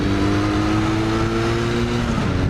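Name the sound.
Kawasaki LTD440 motorcycle accelerating hard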